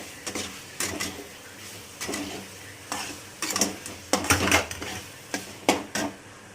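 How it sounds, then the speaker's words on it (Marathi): Paneer roasting and stirred through oily masala in a pan, with repeated scraping and clinking of a spoon against metal over a soft frying hiss, close and moderately loud, no talking. "पनीर पण चांगलं भाजून घ्यायचं मसाल्यामध्ये."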